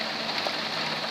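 Heavy summer rain pouring down in Lœuilly, France, a dense steady hiss of drops drumming on surfaces, loud and unbroken with no voices.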